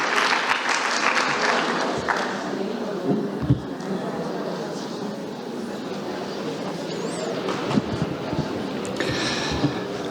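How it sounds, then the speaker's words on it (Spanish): An audience at a union education session applauds the panel speakers, steady dense clapping from a full room with a few sharper claps and thuds standing out, gradually thinning, and murmured voices. "Un aplauso para ellos, por favor."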